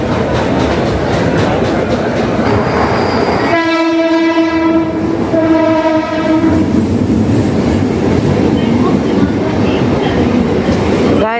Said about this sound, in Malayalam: നമ്മൾ ട്രെയിൻ വന്നു കേട്ടോ.